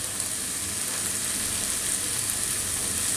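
Tomato rice frying with ground coriander and turmeric in a pan, a dense, even sizzle close by, steady for its whole length.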